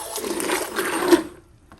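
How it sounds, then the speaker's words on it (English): A mixer whirs steadily while blending watermelon-scented cold process soap batter, then cuts off, leaving near silence with a faint knock near the end. "Let's go ahead and blend that up."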